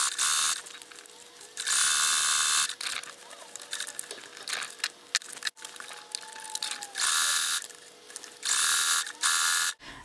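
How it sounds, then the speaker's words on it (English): A sewing machine runs zigzag stitching around a swimsuit bra cup in bursts, with loud steady runs alternating with pauses of fabric handling and small clicks. "I'm just going to do a zigzag stitch all the way around that."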